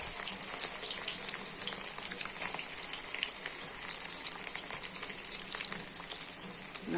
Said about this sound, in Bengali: এখন সয়াবিনটা ভাজা করে নিব।